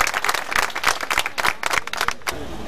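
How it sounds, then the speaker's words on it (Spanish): A protest crowd in central Buenos Aires claps for Leo, a short, close burst of uneven handclaps. "Ese aplauso para Leo."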